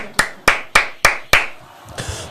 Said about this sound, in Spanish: Un aplauso a Matías Galarza